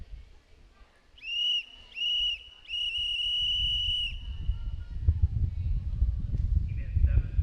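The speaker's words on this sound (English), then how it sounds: "Good long whistles, right?" At a swim meet before a breaststroke start, an official blows two short whistle blasts, then one long one. Poolside crowd noise and chatter swell beneath and continue after the whistles stop.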